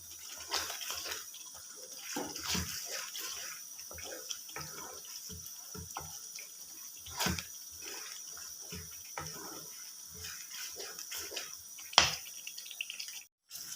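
Minced meat and bitter gourd fry with yogurt in a pan over rising heat. A faint, steady sizzle runs throughout, broken by occasional scrapes and taps of stirring.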